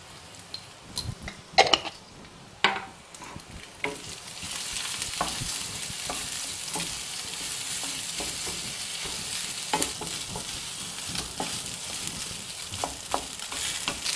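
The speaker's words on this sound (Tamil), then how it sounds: "அந்த சாதம் எல்லாம் லைட்டாக ஓரளவுக்கு ஃப்ரை ஆகிற மாதிரி இருக்கணும்." Cooked rice with turmeric fries in a pan, a soft continuous sizzle with scattered scraping stirs and a few louder clatters early on, fairly quiet and close.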